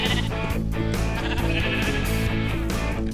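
Minecraft sheep bleat over continuous game music, the short wavering cries blending into a steady, loud backdrop with no talking.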